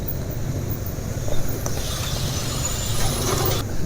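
An engine runs with a silicone oil and zinc sulfate additive mixed into its oil, giving a steady, loud idle rumble with a faint mechanical clatter and a slight swell in the middle.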